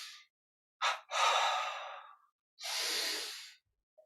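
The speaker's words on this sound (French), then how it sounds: "Encore une fois, inspire." Slow, deep breaths during a guided yoga and meditation breathing exercise, a short breath, then a long airy inhale and another long breath, close and soft with quiet gaps between them.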